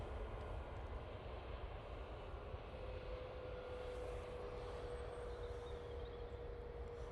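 An EasyJet airliner departs Manchester Airport, its engines making a faint, steady distant roar with a thin tonal whine running through it and no voices.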